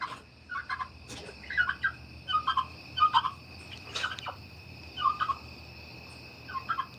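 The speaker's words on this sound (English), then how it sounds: "The only bird left over here right now, Tom the turkey." A turkey gobbles in repeated short, rattling bursts, moderately close, with a steady faint hum in the background and no talking.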